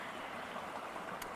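Small water cascades at Hidden Falls in Canberra, Australia, produce a steady, even rush of running water that fills the clip, with a faint brief hiss near the end.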